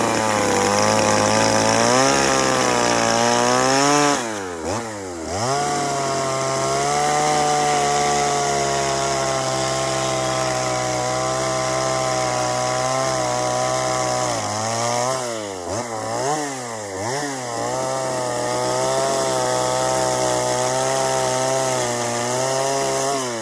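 Chainsaw carving wood in warm outdoor weather, a loud sustained engine whine that revs up and drops back twice as the blade bites into the wood.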